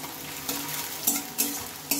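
Onion and two dried red chillies fry over high heat in a pan, a steady close sizzle broken by four crisp spatula strokes roughly half a second apart.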